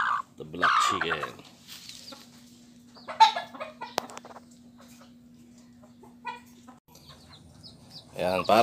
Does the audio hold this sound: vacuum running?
no